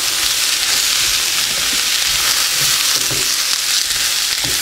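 Breakfast potatoes with onions and red peppers frying in a pan, turned down just below medium, give a steady close hiss and crackle with a few soft pops. No one speaks.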